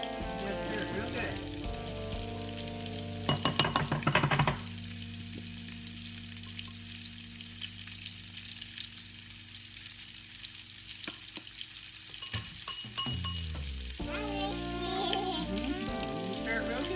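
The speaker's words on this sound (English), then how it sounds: "Stir it real good for me" Food fries in olive oil in a pan while someone stirs it. A steady sizzle runs throughout with bursts of scraping, and tonal background sounds drop away in the middle.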